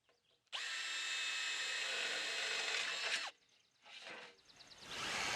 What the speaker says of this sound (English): pre-drill these channels where you're going to put the tech screws through using a 1/4-inch drill bit